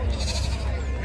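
A sheep bleats briefly amid background murmur at the Gudur sheep market, close and fairly loud over livestock noise.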